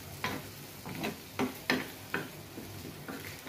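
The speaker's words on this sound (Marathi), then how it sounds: "बघतोय आपण आता हे पिठलं शिजतंय" Pithla, a gram flour dish, cooking on a tawa griddle: quiet, close stirring and scraping strokes in an irregular rhythm, each a soft brief scrape over a faint low sizzle.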